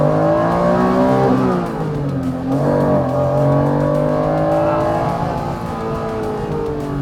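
A Honda NSX-R (NA1 or NA2 generation) engine revs loudly and close, its note sweeping up and down in smooth, sustained pulls with no talk over it.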